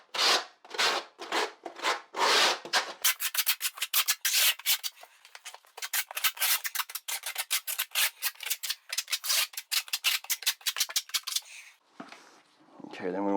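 A steel trowel scrapes thin-set mortar across a shower substrate in repeated rhythmic rubbing strokes, close and fairly loud, quickening into rapid short passes before fading.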